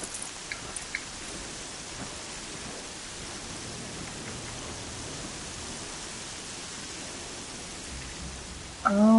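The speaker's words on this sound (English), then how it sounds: "Oh dang, it's raining like crap!" Heavy rain pours steadily in the Horizon Zero Dawn game world, a dense constant hiss with scattered drops, unbroken for several seconds before a sudden louder sound at the very end.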